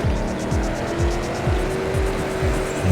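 A Trackmania Turbo race car accelerates in the game with a steady whining engine, repeated rising gear-shift sweeps and a thin tire squeal running throughout, loud and close with no talking.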